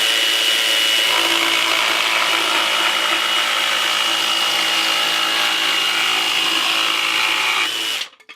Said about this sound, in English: So let's see what we can do with this Ryobi blade with the jigsaw.